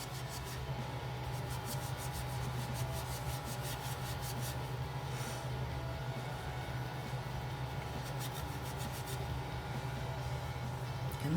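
Continuous hand sanding on a craft centerpiece gives a steady, close scratchy rubbing that goes on without pause under faint background hum.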